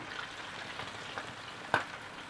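Batter-coated squid deep-fries in hot oil, Taiwanese style, with a soft, steady sizzle and one sharper pop near the end; no one speaks.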